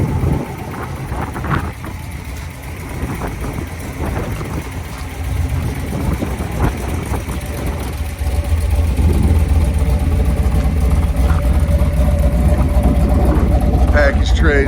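A 1975 Pontiac Trans Am with a 455 V8 and four-speed runs steadily nearby, its rumble growing heavier and louder partway through, with someone talking over the engine at first.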